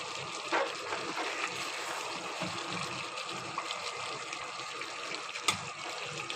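Broth is poured into a pot of chicken curry with a thin gravy, a soft, steady liquid splashing and gurgling that runs for several seconds at low volume.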